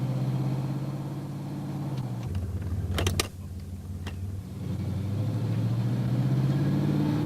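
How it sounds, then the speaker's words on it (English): A vehicle with a 2004R automatic transmission on a road test, its engine and road noise holding a steady low rumble that dips and rises with gear changes, with a few brief sharp clicks near the middle. "let's road test the vehicle to see if the transmission is in good working condition"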